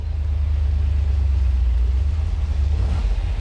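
Low, steady engine rumble of a 1971 Corvette LT1 convertible pulling away, a deep continuous drone heard up close with no voices.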